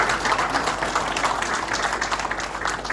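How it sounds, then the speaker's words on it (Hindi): An audience claps at a talk or event, a soft, steady wash of applause lasting a few seconds with no voices over it. "तो एक बार जोरदार तालियां आपके खुद के लिए"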